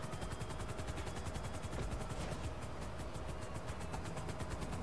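A helicopter's rotor thumps steadily and rapidly alongside a constant engine drone in GTA Online, continuous and moderately loud throughout.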